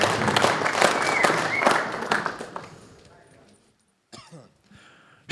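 A crowd applauds two fighters being introduced at a fight event, with loud, dense clapping that fades over about three seconds and then drops to near silence, followed by a few brief scattered sounds.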